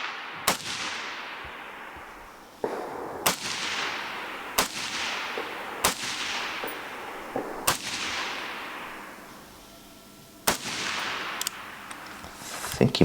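Gunfire at the SRA Etelä-Häme Hätilä 2023 Finnish two-gun shooting competition: about eight sharp, loud shots spaced irregularly a second or more apart, each with a long ringing echo tail and a low background murmur between them.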